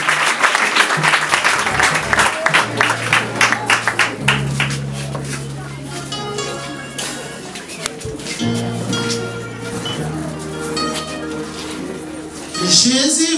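Church congregation applauding during a French-language sermon: steady clapping from a crowd, mixed with music and a preacher's voice over a low sustained organ-like tone.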